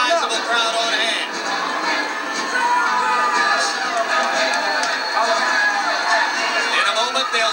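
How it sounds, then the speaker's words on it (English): A large crowd murmurs and calls out in a boxing arena before a heavyweight fight, a dense continuous roar of voices under an announcer speaking. "there is a sizable crowd on hand"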